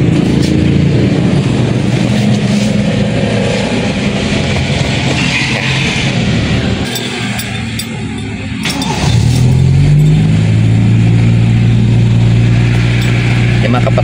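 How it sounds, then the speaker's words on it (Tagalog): Toyota Corolla with a 2E engine cranking and starting during a purge valve repair, a loud running engine that dips briefly before settling into a steady idle hum, with talk over it. "Try na natin i-paandarin yung makina."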